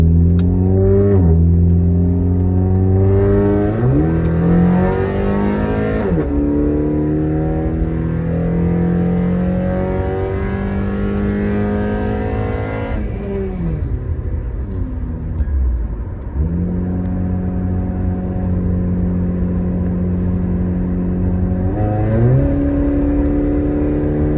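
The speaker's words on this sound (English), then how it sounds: "So fixing to do the first pull with the muffler delete." A 2013 Acura TSX with a muffler delete, resonator retained and no catalytic converters, accelerates hard through several gears, the engine note climbing and dropping at each shift, loud and heard from inside the cabin.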